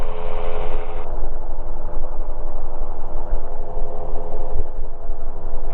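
A gyroplane engine drones steadily and loudly, with a constant buzzing hum and a slight shift in tone partway through as the throttle is eased back.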